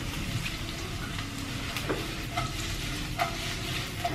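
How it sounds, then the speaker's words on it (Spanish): Onion sliced in a feather cut sautés in a pan, a steady close sizzle with occasional scraping and clicking stir strokes throughout, no voices. "vamos a saltear la cebolla"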